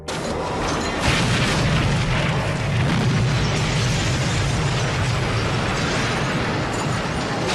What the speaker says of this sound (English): A bolt of lightning strikes the store, causing an explosion that destroys the building.